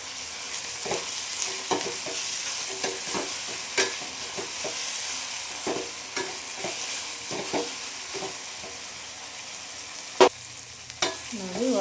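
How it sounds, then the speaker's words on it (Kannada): Toor dal tempering fries with a steady sizzle in a pan, Karnataka style, while a spoon stirs and scrapes repeatedly, with occasional louder knocks against the pan. "ನೋಡಿ ಇವಾಗ ಫ್ರೈ ಆಗಿದೆ ಚೆನ್ನಾಗಿ."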